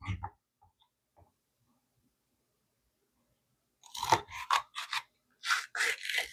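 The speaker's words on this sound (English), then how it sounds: "let's get these peppers cut up and put on the dehydrator" Washed peppers being sliced up for a dehydrator: after a long quiet stretch, a close run of crisp, crunchy knife cuts arrives in quick irregular bursts.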